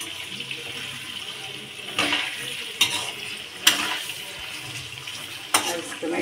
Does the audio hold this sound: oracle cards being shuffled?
no